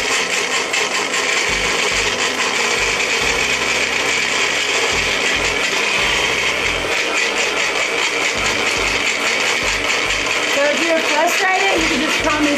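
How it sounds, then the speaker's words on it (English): Vigorous shaking of a blender bottle loaded with ingredients, including Bragg's, produces loud, continuous rattling, rasping churn in uneven bursts over about twelve seconds. "you can just come and shake your blender"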